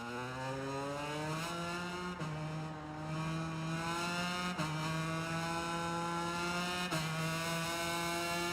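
A motorbike engine in a video game drones steadily with a buzzing, whining tone. Its pitch climbs slowly, drops briefly at each gear change and then rises again over several seconds.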